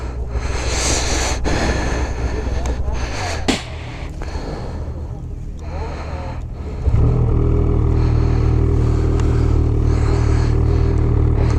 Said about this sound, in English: gonna ride the backcountry XRS 850